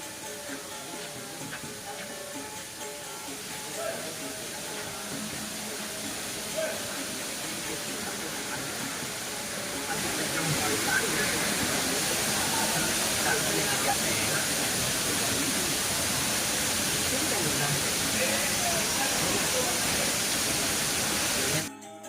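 A steady, rushing roar of the Kanto Lampo waterfall in Bali fills the scene, constant and hissing, growing slightly louder midway through.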